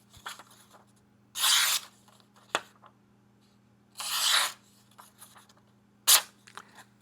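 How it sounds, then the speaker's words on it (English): A fixed blade knife slices through cardboard in three short, crisp, scratchy strokes, each about a third to half a second long, close and clear, separated by quiet pauses with faint handling clicks. "We'll cut some more here in just a second."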